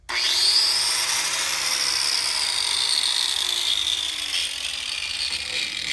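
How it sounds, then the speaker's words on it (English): A Makita 4.5-inch angle grinder with a paddle switch, a 10-amp model, spins up abruptly to full speed and holds a loud, steady high-pitched whine close by, easing slightly near the end. "the grinder started up at full RPMs"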